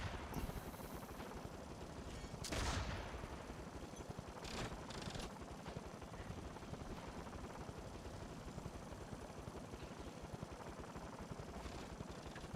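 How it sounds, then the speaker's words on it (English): Gyrocopters in the Warhammer Online video game: a steady, dense mechanical whirring drone with no letup, and a few brief louder bursts of noise cutting in near the start and middle. "I also can hear gyrocopters"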